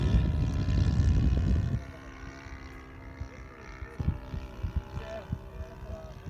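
A PT-19 model airplane engine in flight, a thin distant buzz that continues after a louder burst of wind and handling noise at the start, with faint scattered knocks and brief voices.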